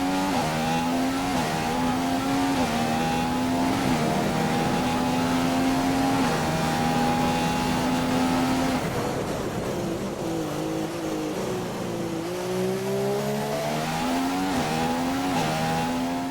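Formula 1 cars head out on track for 2015 Chinese Grand Prix qualifying in Shanghai in a racing game, with a steady high engine drone that dips and climbs again as gears change, loud and continuous with no talk.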